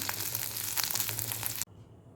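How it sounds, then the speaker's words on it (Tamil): Adamant creeper (pirandai) sautéing in a pan, a close crackling sizzle with light stirring that cuts off abruptly near the end. "பிரண்டையை இந்த அளவுக்கு வறுத்தா போதும்"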